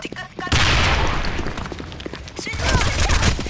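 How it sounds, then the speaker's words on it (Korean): A grenade blast in the online shooter Sudden Attack during a ranked match: a heavy, close boom, followed by sharp, rapid gunfire bursts. "수류탄 던진다"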